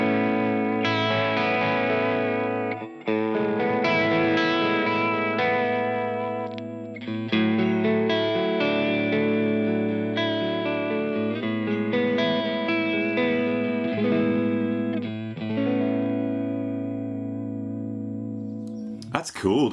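Electric guitar run through an HX Stomp modulation effect set to a choppy, broken vibrato, sustained chords and notes wavering unevenly, close and loud, played alone until a brief noise at the end.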